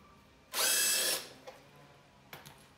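A power drill backs screws out of a Razor E300 electric scooter in one loud, close half-second whir, followed by a couple of faint clicks and a brief second touch of the trigger.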